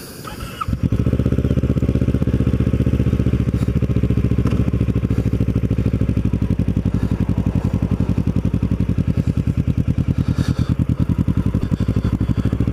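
A Kawasaki Ninja motorcycle engine runs steadily and loudly while riding around Erma, its deep, even thrum holding at a near-constant pitch throughout with no talk.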